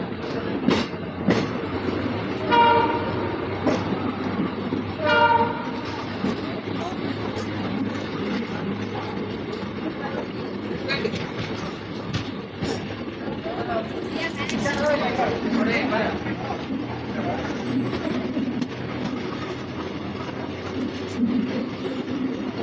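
Passenger train 56520 running after leaving Tumakuru on the Hospete to Bengaluru line, a steady rumble of wheels and carriage noise with rhythmic clicks, loud and close, with voices talking over it.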